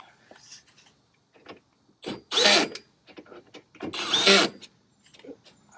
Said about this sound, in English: I'm going to be lazy here and use the tool or the drill.